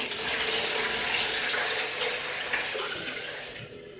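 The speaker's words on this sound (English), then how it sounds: "add about 100 to 150 mils of water, just to put some more water into this to make the liquid higher" About 100 to 150 ml of water pours steadily and loudly into a container of egg whites, a continuous close splashing rush that cuts off near the end.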